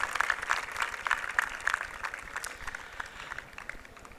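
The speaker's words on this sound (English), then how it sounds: "another round of applause for our commencement speaker" Audience applause at a school graduation ceremony for a commencement speaker: steady, dense clapping from a large crowd in a hall, sustained and moderately distant, fading slightly toward the end.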